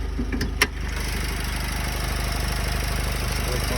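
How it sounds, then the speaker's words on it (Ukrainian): A 2010 Nissan Qashqai+2 2.0 diesel engine idles steadily with a low, even rumble and faint rhythmic knock, close by, with a brief click near the start. "Взагалі дуже тут тихо мотор працює"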